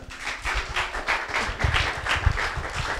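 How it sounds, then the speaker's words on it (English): Audience in a pub applauding a skeptics talk speaker, a close, rhythmic patter of hand claps with thumping low taps, steady and fairly loud for the whole stretch. "Please, a big round of applause for Barry Kushner."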